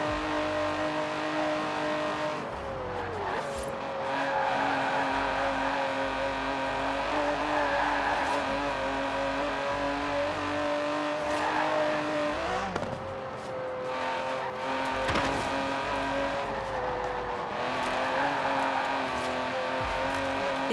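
Aston Martin DB11 luxury car driving in Forza Horizon 4, a loud steady engine drone with rising and falling revs through gear shifts, continuous and close with no talking.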